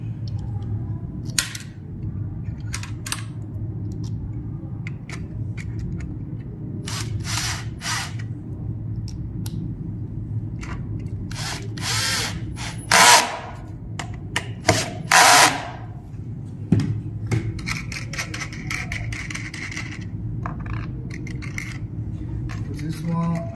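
A power screwdriver drives M6 screws at an 8 Nm setting while a 280Ah battery pack is assembled, with several short whirring bursts between quieter handling noise.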